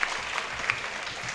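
An audience claps in a dense, continuous patter throughout, moderately loud in a hall during a Tamil talk.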